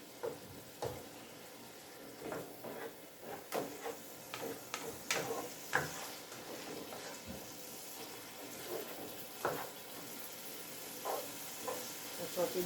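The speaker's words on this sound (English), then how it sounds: "we're going to saute the vegetable before we put the saltfish in" Vegetables and bell pepper sautéing in a pot, a quiet sizzle broken by frequent clattering stirs and scrapes of a utensil against the pot at an uneven rhythm.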